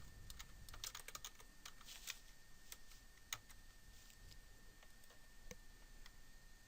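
Steady clicking of a computer keyboard as numbers are entered into an Excel spreadsheet, a quick irregular patter of close keystrokes with no talking.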